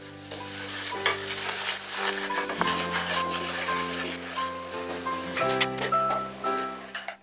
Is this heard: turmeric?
yes